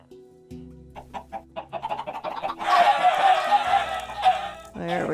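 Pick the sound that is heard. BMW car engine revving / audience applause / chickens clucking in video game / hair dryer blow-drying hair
chickens clucking in video game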